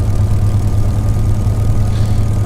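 A Spitfire LF Mk IXc taxis on the ground, its piston engine droning in a loud, steady low rumble at close range with no talking.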